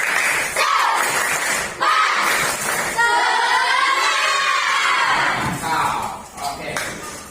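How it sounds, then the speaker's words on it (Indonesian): A class of students performs a rhythmic spirit clap chant together, loud group voices shouting and clapping in patterned bursts, with a teacher leading nearby. "kita tepuk semangat dulu ya"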